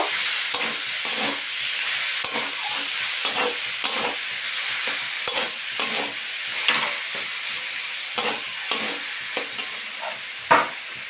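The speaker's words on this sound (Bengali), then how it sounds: "কাঁচা লঙ্কা কুচি দিয়ে আবার একটু বেশ ভালো করে নেড়ে ছেড়ে নেব" Chopped green chillies frying in a hot pan, a constant sizzle and hiss cut by regular scraping strokes of a spatula as the mixture is stirred, close and unaccompanied by talk.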